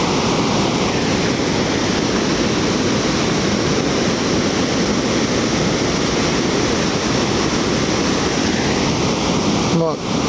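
Ocean surf rolls in at Sendai Shinko (Sendai Newport) beach in Japan, with weak, short-reaching rainy-season waves making a continuous loud wash, mixed with wind rumble on the microphone.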